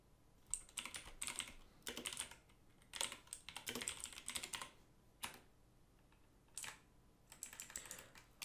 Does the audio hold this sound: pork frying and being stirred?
no